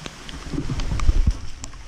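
Steady rain falling during a spearfishing trip, a soft continuous patter with a few heavier drops, fairly close and moderately loud.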